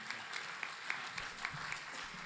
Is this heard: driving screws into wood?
no